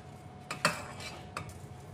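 A spoon scrapes and clinks against a pan while panjiri ingredients are stirred together: cashews, almonds, melon seeds and coconut. There are a few soft knocks and one sharper clink over quiet background hiss, close and faint, with no speech.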